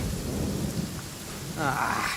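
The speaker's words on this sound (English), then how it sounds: "Lightning storm!" A thunderstorm with steady rain in Genshin Impact, rumbling thunder rolling under continuous rainfall, the storm swelling louder in the final second.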